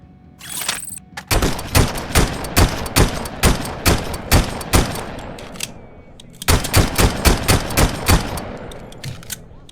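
Heavy .50 caliber pistol fire in a Robocop video game: a rapid string of loud, sharp shots after a brief opening tone, a short pause, then a second burst of evenly spaced blasts.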